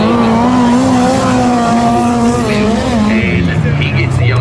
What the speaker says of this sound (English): Next car out on track